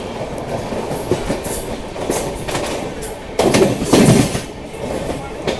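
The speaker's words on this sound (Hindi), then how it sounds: "ट्रैक साउंड देखिए भाई साहब, जबरदस्त।" Purushottam Express running on rail track toward Prayagraj Junction, with a steady rumbling roar of wheels on rails and rolling clatter throughout, swelling louder for a moment near the end.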